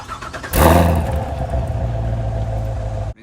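A 2019 Chevrolet Corvette Grand Sport V8 starts up loud and close: a sharp cranking burst catches into a roaring rev, then settles into a steady, rumbling idle that runs until the clip cuts off.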